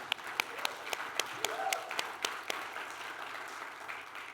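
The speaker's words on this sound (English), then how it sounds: "Yeah, let's clap for that." An audience claps steadily at a church gathering, with a moderate, even rhythm of hands and a few sharper individual claps standing out nearby, and no voices over it.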